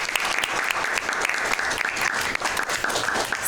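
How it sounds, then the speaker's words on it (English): Steady applause from an audience at a Bladensburg, Maryland town council meeting, honouring a local business on its 42nd anniversary; dense, continuous clapping throughout. "So can we give them a round of applause?"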